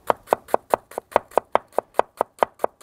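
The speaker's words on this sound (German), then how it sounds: "ich habe jetzt hier eine rote Zwiebel, die schneide ich gerade in kleine Stücke" A knife cuts a red onion into small pieces on a board, making a steady run of about a dozen crisp, evenly spaced chops, close and clear with no talk.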